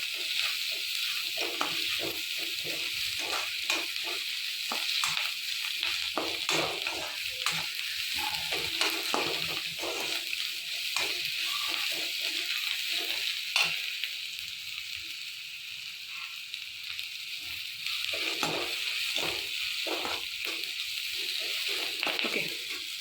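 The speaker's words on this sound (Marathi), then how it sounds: "असा कांदा लालसर भाजीपर्यंत छानपैकी त्याला परतवत राहायचं आहे" Onion stir-fries in a pan for wheat upma, browning to a reddish colour. A continuous sizzle runs under repeated scraping strokes of a spatula, with no one talking.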